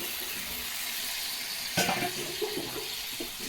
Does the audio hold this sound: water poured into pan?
yes